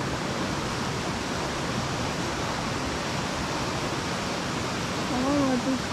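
Small waterfall over modest river rapids in Khao Sok National Park, Thailand, a steady broadband rush of falling water heard close and constant, with a brief voice near the end.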